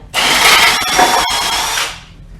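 A power drill bores holes through a hockey board frame, one loud continuous whirring run of about two seconds with a brief dip midway, close up and alone.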